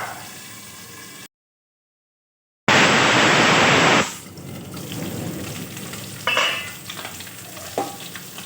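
Vegetables (pointed gourd, raw banana and potato) fry in hot oil in a pan for an aar fish curry, a loud close sizzling burst that settles into a quieter crackle with occasional stirring scrapes.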